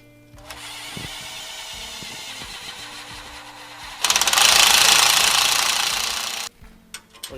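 A Makita power tool, likely an impact driver, tightens a bolt during a Toyota Tacoma Bilstein 5100 suspension install, with light ratcheting and handling at first, then a loud, close burst of hammering that stops abruptly.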